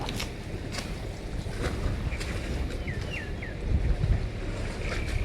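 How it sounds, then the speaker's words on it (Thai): A boat pulling a pontoon on the Chao Phraya river: a steady engine and water rumble under heavy wind buffeting on the microphone, with a few faint chirps in the middle. "เรือดึงโปะออกมาแล้วครับ"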